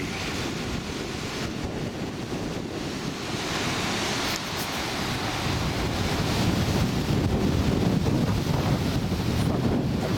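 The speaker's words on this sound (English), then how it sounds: "I'd go as far to say it is exceptionally windy." Strong wind roars continuously across the microphone at a riverbank, buffeting and gusting, with surf-like rushing noise underneath and no voices.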